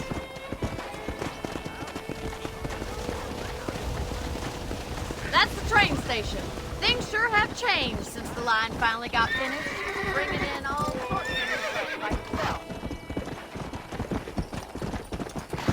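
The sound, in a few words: horse hooves clip-clop, from a video game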